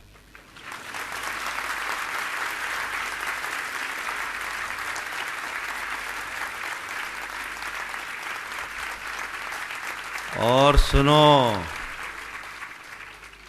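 Sustained applause from a large crowd at a Jain Panchkalyanak Mahotsav in Jabalpur, a steady wash of clapping that carries on for several seconds before a voice briefly cuts in near the end.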